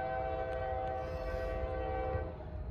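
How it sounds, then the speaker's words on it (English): A CSX eastbound freight train led by a rebuilt GE AC44CW or ES44AC locomotive passes close by, its horn blaring in a steady, loud chord over the continuous rumble and roar of the moving train. "Here comes the eastbound train."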